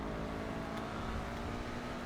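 A Benefactor SM722 sports car in the video game GTA drives along with a steady, droning engine note, held at an even level throughout, with no talk.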